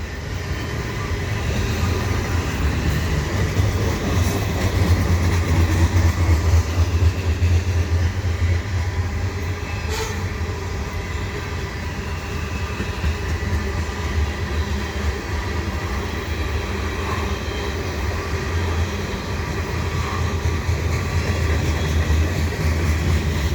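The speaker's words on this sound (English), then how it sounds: "I've got a CN train headed west here at the Dorval ramps at around 5:15 p.m." A westbound CN freight train with three engines hauling grain hoppers past the Dorval ramps in Montreal, a steady, continuous rumble and rolling rail noise lasting throughout, with a faint clank or two, heard from trackside.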